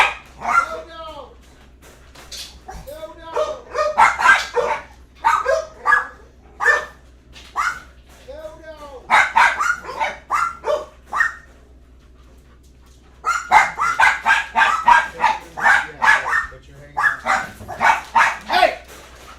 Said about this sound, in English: Hold on, let me get this poor dog in.